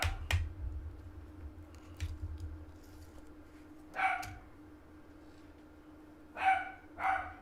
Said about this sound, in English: every dog in the neighborhood is barking, so our dog's going to bark through the whole thing